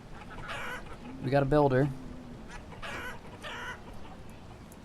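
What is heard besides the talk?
chickens clucking in video game Banished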